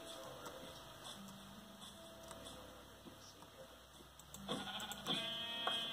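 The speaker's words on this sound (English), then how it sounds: "Hi, sheep." Sheep bleating in the video game Minecraft: a couple of short, nasal bleats near the end, over quiet game ambience with no talking.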